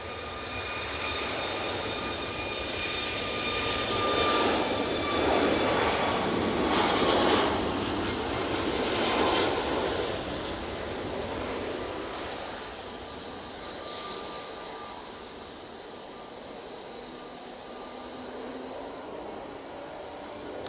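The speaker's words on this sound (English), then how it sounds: "Ryanair going out next. Looks like one of their Max 8 fleets." A Ryanair Boeing 737 Max 8 jet departs Manchester Airport with a rising broadband roar that peaks mid-clip, then fades to a distant, steady whine and rush.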